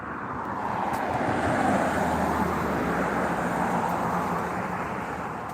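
Steady road traffic on an American road, a continuous broadband rush of passing vehicles with low engine rumble and wind, holding a fairly even level throughout with no talk.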